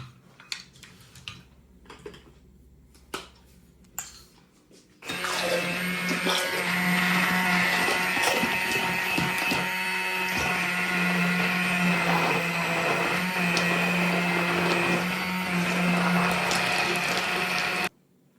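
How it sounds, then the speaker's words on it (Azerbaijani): An electric mixer beating eggs whirs loudly and steadily for about thirteen seconds, following a few faint clinks and knocks of bowl preparation; the motor cuts off abruptly at the end. "Demək yumurtayı birinci çalaq."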